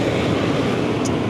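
A 2024 Hot Rod Power Tour van runs with a faulty alternator, giving a steady, loud broadband drone and rumble with no break or voices.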